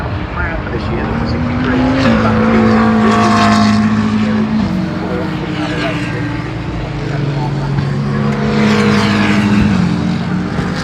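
A GT race car, number 63, passes at Brands Hatch during a 2024 British GT event: a loud, droning engine note rises and falls as it sweeps by, with a second engine pitch following, under crowd and voice chatter.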